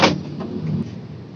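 A manual car being shifted into second gear, a short mechanical clunk at the start followed by a low, steady engine and cabin hum, close and without talk.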